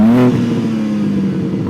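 A rear-wheel-drive car taken fast through a turn revs with a loud engine tone that drops and settles into a steady drone, close and alone.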